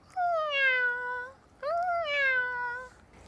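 A cat meows twice, two clear drawn-out calls close and loud, each rising then falling, separated by a short pause.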